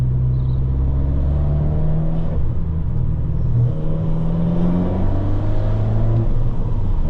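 An Abarth 595's exhaust revs while the car is driven: a loud, steady engine drone with rising and falling tones, heard up close and with no talking.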